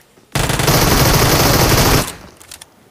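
A UMP submachine gun fires a rapid, continuous burst of shots in a mobile shooter video game, loud and close for under two seconds before stopping, followed by a few faint trailing pops.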